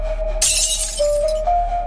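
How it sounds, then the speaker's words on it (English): Glass shatters loudly in a bright, crashing burst with a tinkling tail, then a second smaller break near the end, heard alone over a steady electrical hum. "his ears numb from hearing the glass shatter over and over and over"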